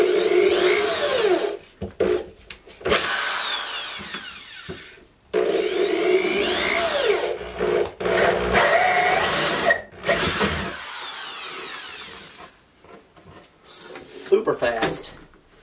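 A corded drill whines in repeated bursts as it bores into wood, with short pauses between runs and rising pitch sweeps as the bit cuts.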